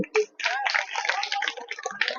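Audience clapping at a public gathering in Bihar, a dense patter of many hands filling nearly the whole span, preceded by a short vocal sound.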